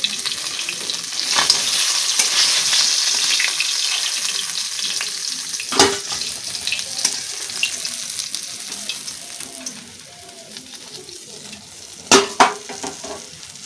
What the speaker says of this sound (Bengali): এইভাবে লাল লাল করে মাছগুলো ভাজা করে নেব